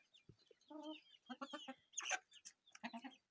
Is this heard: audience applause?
no